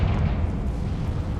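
A Confringo blast spell detonates in a Harry Potter video game, a loud, close, rumbling explosive burst that roars on without a break and stays heavy and boomy throughout.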